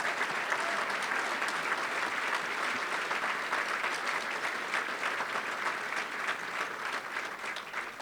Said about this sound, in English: Round of applause for the championship they brought home.